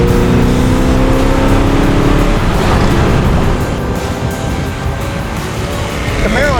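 A Chevrolet Camaro engine roars loud and close under heavy throttle, a sustained droning rev that eases slightly partway through while a voice talks over it.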